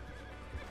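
Horse neigh from the Red Dead Redemption 2 online game, a short whinny with faint hoof clip-clop under a steady game background.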